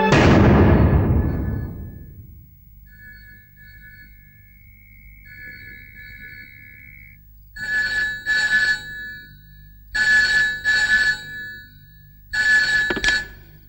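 A telephone rings out after a number is dialled, sounding in several loud paired bursts separated by silent gaps, following a short fading thud at the start.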